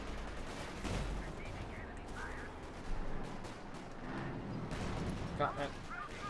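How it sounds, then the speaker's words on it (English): Artillery fire in Company of Heroes 2, a match of OKW against UKF forces: repeated distant booms and crackling gunfire rumble under continuous commentary. "Oh, artillery called in."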